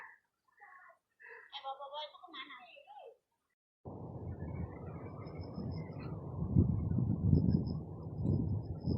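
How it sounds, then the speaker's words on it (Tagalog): Strong storm wind roars on a mountain during a hike, a dense low rush that swells and gusts loudly after a few seconds of quiet, with talking heard before it begins. "Malakas din ang hangin."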